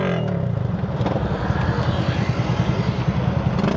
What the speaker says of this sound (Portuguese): Eu tô indo de moto